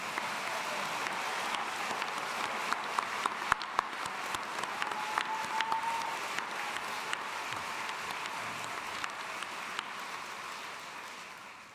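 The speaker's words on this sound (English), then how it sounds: "can I ask you to give them one more round of applause?" Applause from a large commencement audience in an arena, sustained dense clapping that fills the space and slowly fades near the end, with no speech over it.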